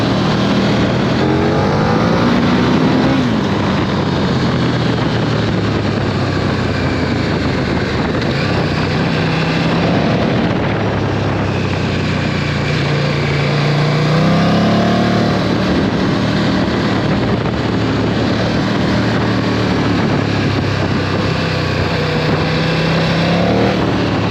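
A KTM Super Duke GT 1290 motorcycle engine roars loud and close throughout, its pitch rising and falling as the rider revs and accelerates, with no talking.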